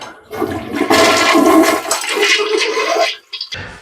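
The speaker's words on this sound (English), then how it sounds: "Now we can flush our toilet." A toilet flushes loudly and close by with the water supply shut off, a rushing swirl of water that lasts about three seconds and then stops abruptly, followed by a couple of faint gurgles.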